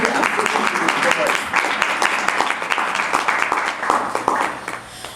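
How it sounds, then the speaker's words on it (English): An audience at JemCon 2022, during a talk on Black Lives Matter, breaks into dense, sustained applause with many overlapping claps, loud and continuous for about five seconds before tapering slightly. "That deserves a round of applause."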